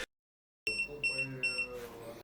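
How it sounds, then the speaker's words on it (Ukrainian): Short electronic beeps from a Choetech 300W portable power station warning of low battery, a few clear high-pitched tones in quick succession after a moment of silence, close and fairly loud. "при розряджанні станції лунає короткий звуковий сигнал"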